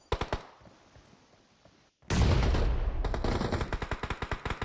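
A grenade blast in a competitive shooter video game hits suddenly and loud after rapid gunfire, with a rumbling explosion followed by continued bursts of automatic fire.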